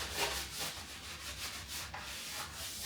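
Kitchen roll dampened with rubbing alcohol is wiped over a Yamaha MT-09 motorcycle frame, giving soft rhythmic rubbing strokes, close and quiet, with no talking.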